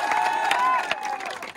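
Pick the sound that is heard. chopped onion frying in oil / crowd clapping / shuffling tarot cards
crowd clapping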